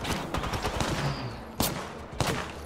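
Bursts of gunfire in a shooter video game, a rapid rattling volley followed by two sharp, loud single shots, with no voices over it.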